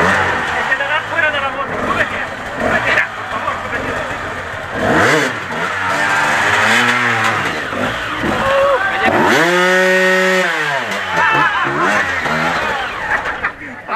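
A motorcycle engine revs up and down repeatedly at an off-road enduro event, rising and falling in pitch, loud and near, with people talking over it.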